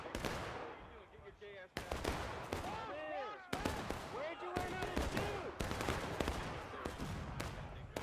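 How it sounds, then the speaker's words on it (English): Repeated gunshots and artillery blasts boom across a Civil War video game battlefield, sharp cracks arriving every second or so over a dense, continuous rumble of distant fire, with someone talking faintly underneath. "Artillery looks like they're hitting their own guys."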